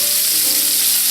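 Salmon sears in a hot pan, a loud, dense, close sizzle that holds steady for a brief moment with no pauses.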